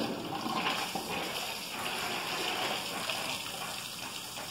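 Cold water spraying as a small jet from the raised conditioner of a Zamboni ice resurfacer, a steady close hiss and gush that runs without pause.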